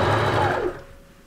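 A sewing machine runs loud and close as it stitches a zip into a sweater, a dense steady whir that slows and fades to a stop after under a second.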